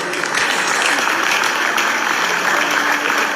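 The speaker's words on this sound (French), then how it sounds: "Est-ce qu'on peut applaudir le Seigneur?" Congregation applauding in church, praising the Lord at a celebration, a dense, continuous roar of many hands clapping at close range, steady and loud with a faint murmur of voices underneath.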